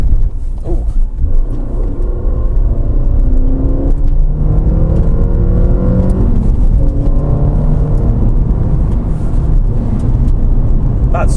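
A Suzuki Swift Sport engine rumbles loudly up close, its pitch rising and shifting as it revs through a two-gear downshift, with a constant low road drone underneath.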